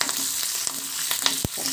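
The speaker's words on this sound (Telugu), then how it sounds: "ఇప్పుడు స్టవ్ ఆఫ్ చేసి కొద్దిగా కరివేపాకు వేసుకుందాము" Curry leaves dropped into hot tempering oil for a chutney, with the stove just switched off, give a dense, close sizzling hiss broken by sharp crackles and one strong pop.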